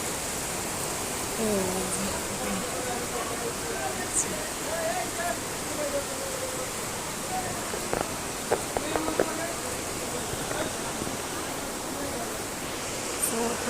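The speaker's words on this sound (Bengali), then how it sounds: "দেখো এখানে কত বৃষ্টি।" Heavy rain pouring steadily as a broad, even wash of noise, with water running off nearby and a few faint knocks and scattered splashes partway through.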